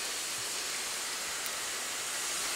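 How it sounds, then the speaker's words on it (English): Steady rain in the Roblox video game The 4700 Class - Steam Era hisses continuously, a dense, even wash of falling water with no voices or other sounds. "it kind of rains constantly now"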